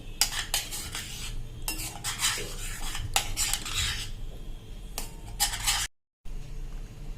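Rice baby food being stirred in a pot, with repeated clinks and scrapes of a metal spoon against the pot coming in irregular bursts, close and moderately loud, and a brief gap of silence near the end.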